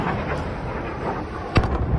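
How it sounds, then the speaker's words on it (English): A single dull blast from a military strike in the war in Ukraine rings out about midway, distant and brief, over a steady background rumble. "so another explosion"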